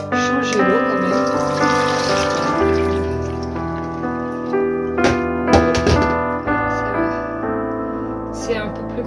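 Tap water runs steadily into a container in a kitchen while soaking water is changed, with sustained tonal background music over the flow and occasional brief knocks.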